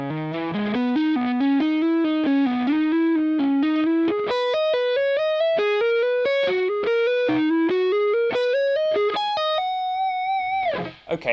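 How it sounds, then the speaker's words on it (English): A distorted electric guitar plays a fast, smooth legato run of ascending notes, ending on a sustained note that bends away, with a wash of reverb. "let's just stick a bit of reverb on now that we know the lick."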